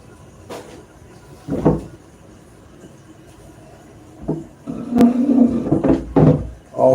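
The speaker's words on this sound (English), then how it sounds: "can I open up this door?" A door being handled and opened indoors: scattered knocks and a thud early, then a burst of rattling and scraping clatter near the end, close by with quiet gaps between.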